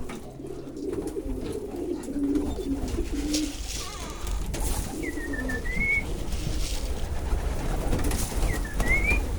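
Pigeons coo and call at a busy pigeon market in Zgierz, Poland, with a few short whistled or chirped notes over a constant crowd murmur and outdoor bustle.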